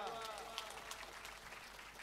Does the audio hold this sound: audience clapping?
yes